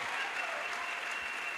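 Congregation applause at a Christian crusade testimony service in Douala, a steady, dense wash of clapping sustained evenly throughout, moderately distant.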